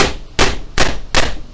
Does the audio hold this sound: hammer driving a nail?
yes